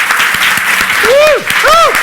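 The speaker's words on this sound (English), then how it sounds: "And a huge round of applause to say thank you." Audience applause at a summit for the event's facilitators: close, loud dense clapping with two rising whoops cutting through near the end.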